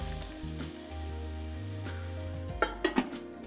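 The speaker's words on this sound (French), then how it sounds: "Les moules cuisent à la vapeur" A steady low bubbling simmer with faint sizzling as mussels steam in a covered pot on the stove, plus a few soft knocks near the end.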